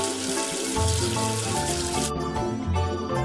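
Water running and splashing as soap is washed off a number in a kids' education app; a steady, full rush of tap-like flow throughout, with no talking.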